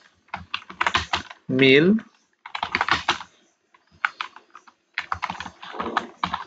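Computer keyboard typing in quick bursts of close, crisp clicks, interleaved with a person speaking throughout.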